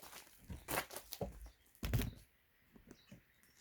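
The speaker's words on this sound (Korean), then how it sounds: "지금 제가 지금 밟고 있는 요 까만 거, 요게 부직포입니다." Footsteps press on black non-woven fabric mulch laid between raised beds in a bellflower field, giving close, irregular crinkling and crunching rustles that fade to quieter scuffs.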